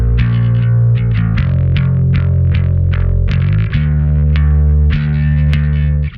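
Bass-heavy rock mix plays back loudly and continuously, with a fast compressor holding the low end steady and guitar amp distortion switched off, steady driving notes with a controlled, present top end.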